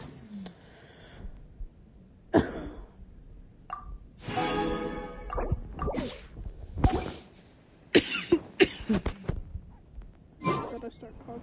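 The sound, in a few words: person coughing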